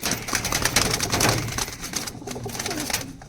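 Teddy and Rampuri pigeons coo together in a loft, a steady layered chorus of soft, close throaty calls running throughout without a break.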